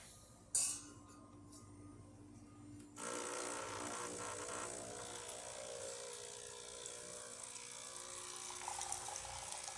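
A sharp click sounds first, then after a short pause a Breville Barista espresso machine begins dispensing hot water, a loud, steady rushing hiss with a low pump hum underneath that continues to the end.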